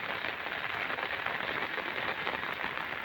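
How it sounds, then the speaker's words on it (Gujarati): Heavy rain pouring at night in Bhavnagar, a dense, even roar of water with no breaks, heard at a moderate, steady level. "ભાવનગરમાં ફૂલ વરસાદ."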